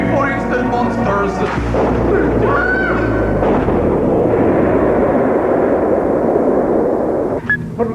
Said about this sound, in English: It sounded like an explosion underwater.